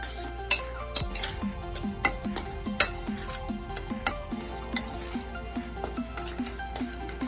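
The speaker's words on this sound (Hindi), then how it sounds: "इसको हम मिक्स कर लेंगे" Egg batter for Keto Eggs 65 stirred with a spoon in a bowl, a steady run of rhythmic clinks and scrapes against the bowl, close and clear, with a faint hum underneath and no talk.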